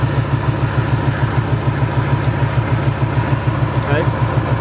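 Ford 4.6 V8 engine idling steadily with one ignition coil unplugged, a continuous low throbbing rumble with an even pulse, close and fairly loud.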